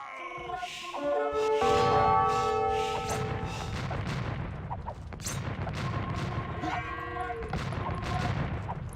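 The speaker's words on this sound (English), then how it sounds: "The hand cannons fire very slowly." Hand cannon gunfire in a late-game Age of Empires 1v1 match on Arabia, Goths against Berbers: a dense volley of sharp booming shots with bell-like ringing tones, repeating throughout over busy battle noise.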